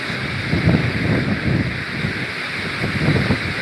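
Strong wind blows steadily outdoors at Beacon Rock State Park, buffeting the microphone with a loud, continuous low rumble and gusty surges throughout, with no talking.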